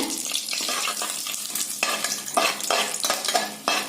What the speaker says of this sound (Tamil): இதையெல்லாம் நல்லா 1 நிமிஷம் எண்ணெயில வதக்கி விடலாங்க.